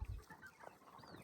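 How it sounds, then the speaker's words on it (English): Rooster on an off-grid Texas homestead giving a few brief low clucks at the start, then faint outdoor ambience. "my rooster"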